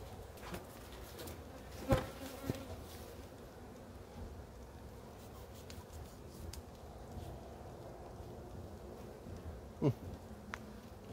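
Honeybees hum in a soft, continuous drone at the hive in November, with a few brief louder buzzes as individual bees pass close.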